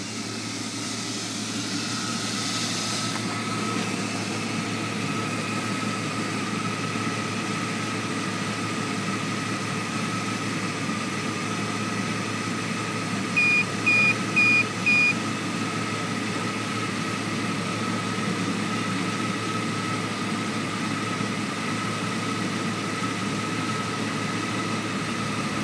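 A 1995 Ford Mustang with a 3.8 engine idles steadily, a low continuous hum with a faint whine, heard close with no speech and a few brief beeps partway through.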